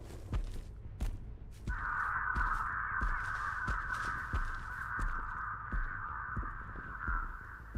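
A flock of crows in Dead by Daylight breaks into a continuous cawing chorus that holds steady for several seconds, layered over regular thudding heartbeat-like pulses and soft footsteps, with no one talking.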